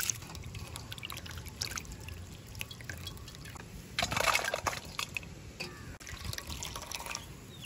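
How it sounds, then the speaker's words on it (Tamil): A soaked banana flower is wrung out by hand during Tamil village cooking. Water drips and trickles close by in a steady wet patter, with one fuller splashing gush in the middle and no talking. "கட்டி வச்ச வாழைப்பூத்தியை வந்து புளிஞ்சு எடுப்போம்."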